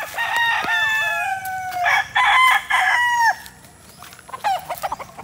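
A rooster among game fowl crows loudly and close in several long, strained calls, with clucking and more crowing from nearby birds following.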